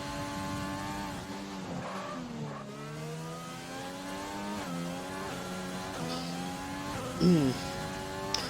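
A Formula 1 race car in a video game screams through a lap at the Netherlands circuit, its engine note rising and falling steadily through gear changes, with a brief tire squeal near the end; no one talks over it.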